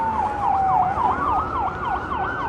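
An ambulance siren wails on a New York City street in Manhattan, its loud, rapid rising-and-falling cycles repeating close by over traffic rumble.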